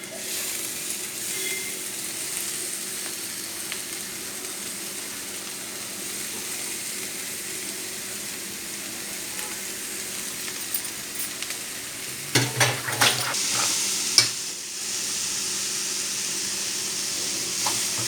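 Flaked tuna with the bones picked out, sautéed in masala in a pan for fish puttu, gives a steady soft sizzle for the whole stretch, with a brief burst of spoon scrapes and clatter from the stirring near the end.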